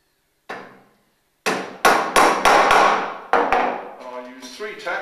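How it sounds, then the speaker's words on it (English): A magnetised upholsterer's hammer drives tacks into a settee frame, with sharp close taps struck singly and then in a quick cluster of about eight blows, ringing briefly after each. "Now I'm using an upholsterer's hammer here"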